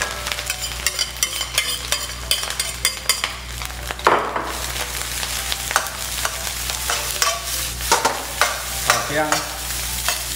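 Cooked white rice stir-fried in a wok over medium heat, a loud continuous sizzle broken by frequent sharp scrapes and clanks of a spatula pressing and pushing the grains, with a brief spoken remark.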